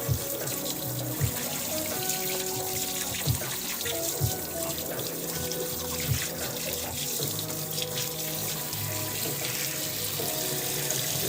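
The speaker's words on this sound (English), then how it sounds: "Keep the water running while I unroll it." Water runs steadily from a tap, splashing continuously into a sink, with occasional soft knocks and clatters underneath.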